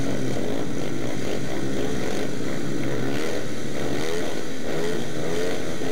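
Speedway motorcycles revving together at the start of a Conference League heat, a loud, continuous buzzing engine roar that fills the whole clip with rising and falling revs.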